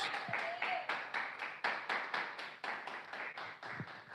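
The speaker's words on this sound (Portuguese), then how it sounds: "Palmas de vitória, meus irmãos." A church congregation claps in rhythm during a sermon, a fairly faint run of regular, even beats at a steady tempo, with a little voice sound underneath.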